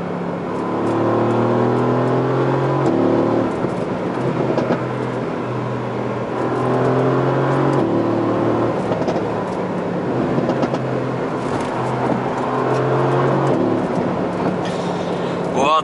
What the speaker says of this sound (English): It's a twin turbo 4 liter